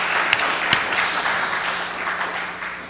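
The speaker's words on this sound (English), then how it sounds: "a round of applause for those three wonderful training coordinators" An audience at an academic gathering honoring social change scholars applauds three training coordinators, a brief burst of room-filling clapping with a couple of sharp claps early on, slowly fading.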